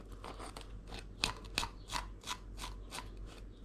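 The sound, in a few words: knife cutting along the side of a pollack fish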